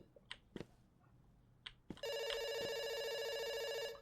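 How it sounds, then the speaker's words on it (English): A telephone rings in a game, a loud continuous electronic trill starting abruptly after a few faint clicks and lasting about two seconds. "Yeah, it's ringing. It's still ringing."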